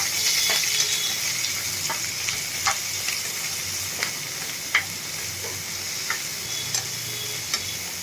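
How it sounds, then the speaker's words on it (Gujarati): Ivy gourd and chillies frying with salt and turmeric in a pan give a steady, close sizzle, while a spoon scrapes and taps the pan in scattered strokes, with no voices. "આપણે એને હલાવતા જઈને થોડા સોફ્ટ થાય ત્યાં સુધી આપણે એને પકાવી લેશું"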